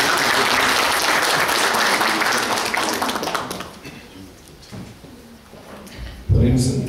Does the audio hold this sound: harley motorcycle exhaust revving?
no